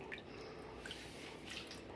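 Water drips and trickles softly from grated potato being rinsed in a bowl during home chip-making, a faint, close wet patter that runs steadily without voices.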